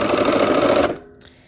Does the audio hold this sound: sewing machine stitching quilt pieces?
yes